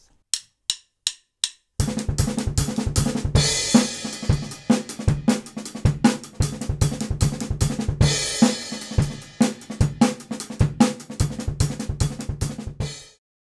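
A fast drum chop played as a drum and bass groove at about 150 to 155 BPM: a few count-in clicks, then dense, rapid snare and kick hits with cymbals, loud and close, until an abrupt stop.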